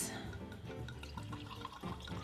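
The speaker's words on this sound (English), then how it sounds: "I need 2 ounces of my cachaça. It's always a lovely sound." Cachaça pours into a glass for a caipirinha, a short, quiet, close trickle and splash of liquid with faint dripping.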